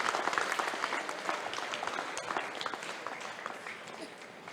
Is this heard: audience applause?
yes